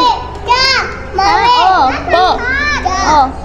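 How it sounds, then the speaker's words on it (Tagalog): Excited children shout and chatter loudly and close by at an oceanarium in Manila Ocean Park, with high bursts of voices overlapping in a steady, busy stream of play. "Sobrang ingay ng mga bata."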